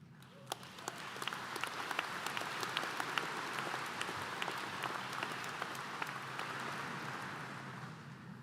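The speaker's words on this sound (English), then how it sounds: "that truly was thunderous applause" Sustained applause from a large audience at a University of Guelph convocation ceremony, a broad, continuous roar of clapping heard from some distance, fairly even in level across the whole stretch with individual sharp claps standing out.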